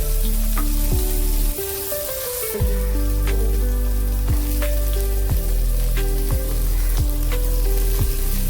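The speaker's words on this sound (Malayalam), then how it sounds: "മീൻ വറുത്ത എണ്ണയിൽ ഉള്ളി, പച്ചമുളക്, തക്കാളി എന്നിവ ചേർത്ത് വഴറ്റിയെടുക്കാം" Onion, green chilli and tomato sautéing in leftover oil from frying pearl spot fish, a loud close sizzle with crackling spatters and a burst of hissing as ingredients hit the hot oil, continuing steadily.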